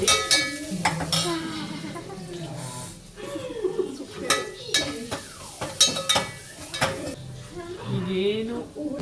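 Food is stirred and mixed in a cooking pot, with a spoon scraping and clinking against the metal over a soft sizzle, repeated in uneven strokes at close range.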